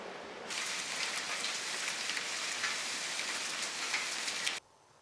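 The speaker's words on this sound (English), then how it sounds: "It rains." Steady rain falling, a close, even hiss of drops that starts abruptly and cuts off near the end.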